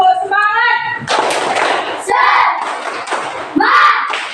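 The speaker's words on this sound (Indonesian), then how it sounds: "kita tepuk semangat dulu" Schoolchildren in an Indonesian classroom perform the rhythmic tepuk semangat clapping cheer, sharp bursts of hand claps coming in short patterned groups mixed with chanted voices.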